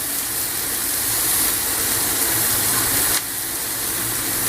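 Carrot, cabbage, onion and capsicum with chilli and garlic sizzle in a hot pan, a steady loud hiss that drops slightly near the end, with no talk.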